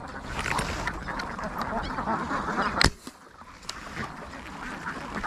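A duck quacks and honks repeatedly outdoors near water, moderately loud over steady background noise, with a sharp brief snap partway through followed by a quieter stretch.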